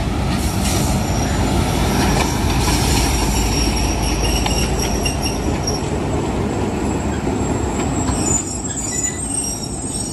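A Millat Express train arrives at Mandi Bahauddin railway station behind Hitachi locomotive 8318, with a loud, steady rumble of rolling wagons and squealing wheels. The noise eases slightly near the end, and no one speaks.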